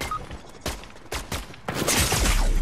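Rapid bursts of gunfire in the Fortnite video game, several loud broadband volleys in quick succession building into sustained heavy firing toward the end, with no talking.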